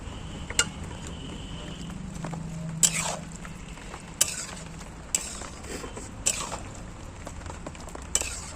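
Scattered metallic clinks of a spatula against a pan as fried prawns are stirred into a taro stem dish, with a faint sizzle underneath; no voices.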